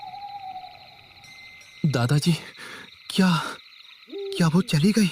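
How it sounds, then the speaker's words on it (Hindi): An owl hoots far off on a quiet night, its calls drifting under and between a frightened exchange of voices talking close by. "दूर कहीं किसी उल्लू के डरावने रोने की आवाज गूंज रही थी"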